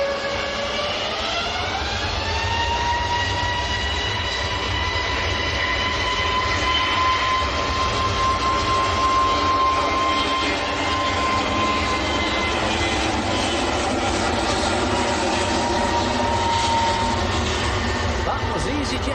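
An EasyJet Airbus A321neo at Manchester Airport produces a loud, sustained engine roar with a rising whine that climbs and then holds as a steady tone, close and continuous throughout.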